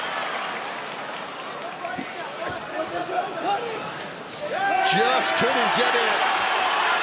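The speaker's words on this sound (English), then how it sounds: "the crowd letting Wojtas know they are right behind him" Fight crowd at a Cage Warriors MMA event in Glasgow cheering for Igor Wojtas, a loud arena roar that swells sharply midway and holds steady, with commentators talking over it.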